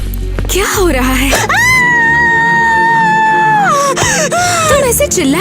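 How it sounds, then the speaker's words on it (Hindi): A woman screams in fear in a horror comedy, a loud sustained wail that rises and holds for a couple of seconds, with shorter cries and strained vocal sounds around it. "तुम ऐसे चिल्ला क्यों रही हो?"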